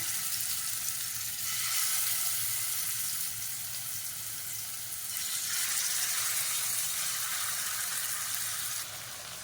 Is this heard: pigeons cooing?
no